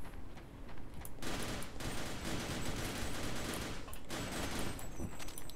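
A chain gun in the Sven Co-op video game fires in sustained, dense rattling bursts with brief pauses, loud and close, with no talk over it.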